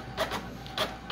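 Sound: HP ENVY printer starting to print a status report

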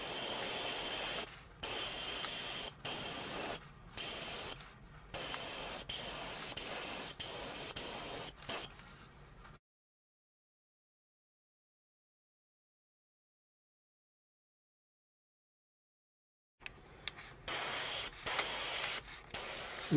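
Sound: spray painting an HO scale model locomotive

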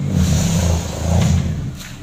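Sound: 1995 Daihatsu Feroza engine revving as driver gives gas

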